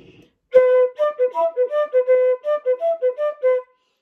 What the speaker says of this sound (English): if you were to articulate with a glottal stop, it would sound like this